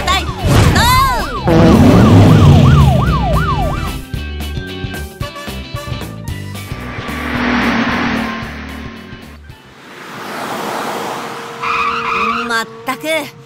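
Cartoon fire engine, ambulance and police car sirens wail in rising and falling sweeps near the start, followed by busy, loud cartoon vehicle sound effects and music.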